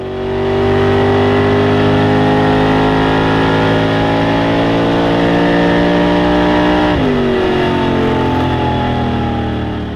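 Onboard a 409-powered 1962 Chevy drag car at a raceway, the engine roars loud and steady at high revs with a shift-like drop near the end, close and alone.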